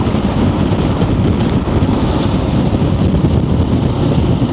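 Strong wind buffets loudly and continuously, a deep rushing roar with no pauses or voices.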